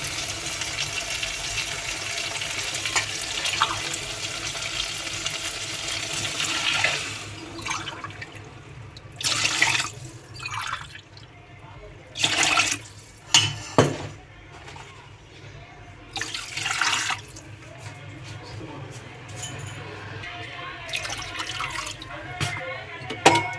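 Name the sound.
pouring six glasses of water onto rice for biryani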